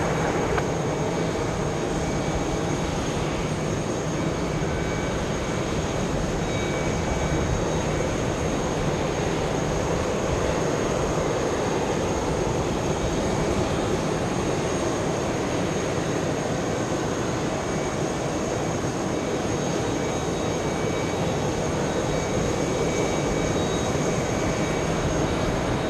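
A heavy Delta jet rolls for takeoff on runway 22 right at JFK airport, a loud, sustained broadband engine roar that holds steady throughout, with no talk.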